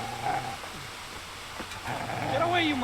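A dog in the medieval game Kingdom Come Deliverance growls and whimpers with rising, whining tones, close and fairly loud, mixed with other game sounds and a voice.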